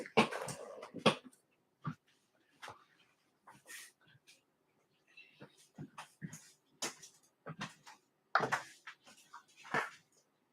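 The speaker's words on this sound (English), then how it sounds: "let me take care of the dog" A dog indoors whimpering and moving about: scattered short whines, breaths and shuffling bumps spread across ten quiet seconds, with faint speech mixed in.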